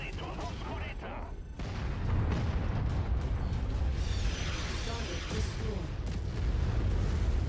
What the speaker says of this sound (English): now we can destroy the artillery cannons. Target destroyed.